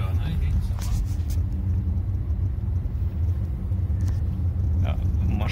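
Volvo XC90 T8 plug-in hybrid steering itself on autopilot, a steady low road rumble and engine hum from inside the cabin with continuous talk over it.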